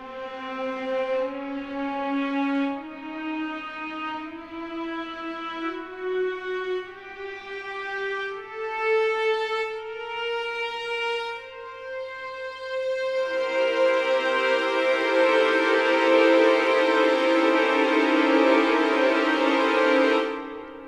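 A sustained, synth-like tone steps up through an evenly spaced octatonic scale, one note after another, then thickens into a dense, brighter held chord.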